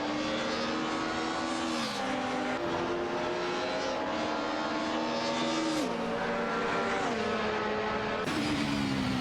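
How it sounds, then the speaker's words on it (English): Race car engines from an Alfa Romeo 155 TV6 and a BMW M3 GTR Evo in a racing video game, a continuous loud multi-car drone with repeated gear-shift pitch drops and rising revs, no talking. "Aminsan is maneuvering an Alfa Romeo 155 TV6, while Naibe and Lacrosse in 1980 are holding their ground with a BMW M3 GTR Evo."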